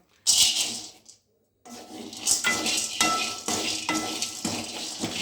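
Nuts and pumpkin seeds stirred while lightly roasting in a pan, with repeated scraping, rattling strokes and faint sizzle, close by, after a brief pause near the start, no talk.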